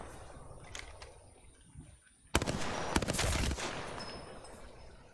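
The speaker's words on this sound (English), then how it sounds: "Someone was shooting from you, I think, from the left." Sharp bursts of automatic gunfire in an Apex Legends match: a faint shot early, then a loud, dense volley of rapid rounds near the middle that fades into a steady rumble.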